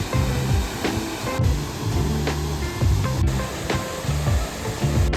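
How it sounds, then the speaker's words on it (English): Millstream Falls in Australia, a waterfall several meters high, pours as a steady broadband roar of falling water, continuous and fairly close with no talking over it. "That's a good few meters of a waterfall"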